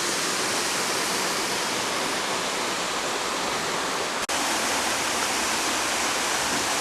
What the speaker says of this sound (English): Certainly a pretty little waterfall running down through all that moss.